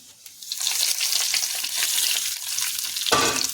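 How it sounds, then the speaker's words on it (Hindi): Cumin seeds for bathua raita hit hot oil and burst into a loud, close, crackling sizzle that swells quickly and stays strong. A sharp spitting flare comes near the end, and no one speaks. "तो ये देखिए जीरा डाल दिया।"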